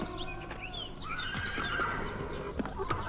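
A pony sheltering in a cave neighs several times and stamps its hooves in scattered clip-clop thuds. The sounds are fairly faint and play over a busy, reverberant background.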